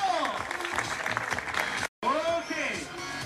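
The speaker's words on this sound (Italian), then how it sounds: "Applauso!" Crowd applause at an outdoor trial bike show in Marina di Ragusa, a dense wash of clapping that breaks off for an instant and then resumes, with a motorcycle engine whining beneath it.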